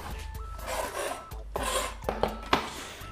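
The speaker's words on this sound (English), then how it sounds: "We're going to cut the top off with a nice, sharp, serrated knife." A sharp serrated knife saws through the top of an artichoke, with rasping back-and-forth strokes and a few crisp snaps as the tough leaves give way, close up and without talk.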